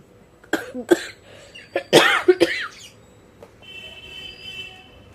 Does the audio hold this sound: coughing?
yes